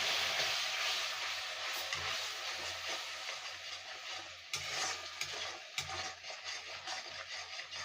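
Spiced masala water poured into hot frying oil and spices for a Kolkata-style rui fish curry, a loud continuous sizzling hiss that fades slightly, with a few soft clinks from the pan.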